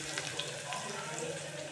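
Onion and green chili fry in hot sesame oil in a clay pot with cinnamon and cloves, giving a soft, close sizzle with faint crackles and light stirring, quiet and continuous.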